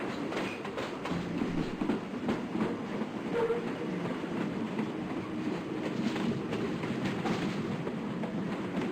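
A train runs on rails in the visual novel Fox Hime, a steady low rumble with faint rhythmic clatter of wheels, continuous and moderately quiet with no voices.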